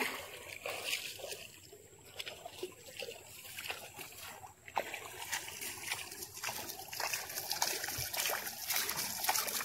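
River water splashes and trickles as mud is rinsed from a large fish's head by hand, a steady wet sloshing close up with a constant outdoor hiss behind it.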